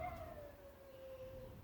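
A dog howls faintly in a room, one long, slowly falling tone that holds steady for over a second, with no talking.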